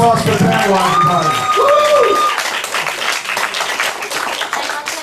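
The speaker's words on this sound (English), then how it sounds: "round of applause for Pam, everybody" Loud applause and clapping from a crowd, steady and sustained throughout, with a voice calling out over the start.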